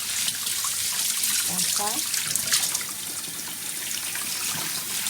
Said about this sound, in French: Il faut laver sous le robinet, voilà, comme ça.